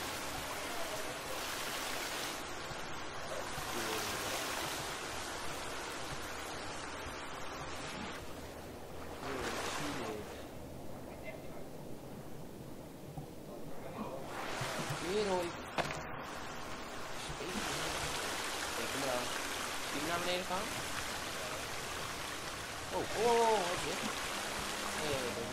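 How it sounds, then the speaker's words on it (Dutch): A waterfall rushes steadily as broadband roaring water, with someone standing right in it; the noise is loud and continuous, with brief louder splashes and a quieter moment midway. "Ik sta in een waterval."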